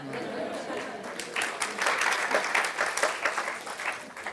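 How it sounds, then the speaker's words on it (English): An audience at the Messy Church International Conference claps in a dense burst that swells after a brief pause and keeps going, moderately loud and alone. "Give yourselves a clap."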